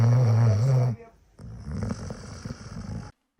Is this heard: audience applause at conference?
no